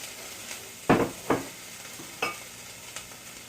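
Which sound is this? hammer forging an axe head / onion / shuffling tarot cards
onion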